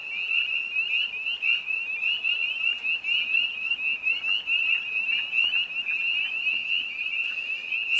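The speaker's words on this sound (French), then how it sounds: "il me semble qu'on dort bien au son des grenouilles" Spring frogs croak in a dense, continuous chorus, a steady high trilling drone with overlapping calls that never pause, fairly close and loud throughout.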